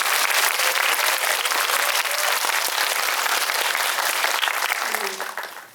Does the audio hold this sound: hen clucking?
no